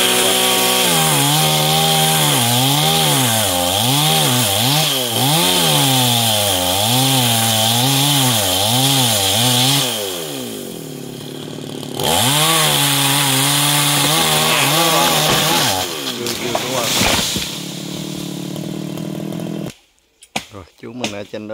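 A chainsaw cutting a large golden wattle tree revs and bogs in wavering bursts, loud and close, pausing briefly before roaring again, then cutting off near the end amid rustling and thuds; a person talks over it.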